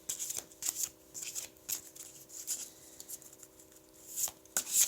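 Oracle cards from a dragon wisdom deck being shuffled by hand, a run of soft papery riffling bursts with brief pauses between them, close and fairly quiet with no talking.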